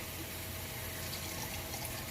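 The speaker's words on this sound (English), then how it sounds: "I'll put a little bit of water" Water is poured into a pan of cooking fish escabeche, a steady rushing splash that holds evenly for about two seconds with no voices over it.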